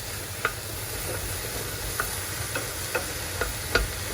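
Zucchini soup ingredients sizzle steadily in a pan under a constant frying hiss, with a handful of sharp clicks from stirring scattered through, and no one talking.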